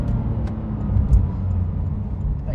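A Porsche 911 GT3 991.2 in PDK Sport mode pulls away, its engine a steady close low rumble with no voices.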